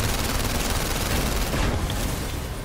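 Rapid gunfire in The London Heist VR as shots are fired at a car's tires, a loud, dense stream of bangs that runs on without a gap and fades slightly at the end.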